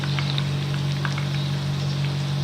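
Breadcrumb-coated cheese chicken nuggets frying on a low flame: a steady, close bubbling sizzle of oil over a constant low hum, with no talk.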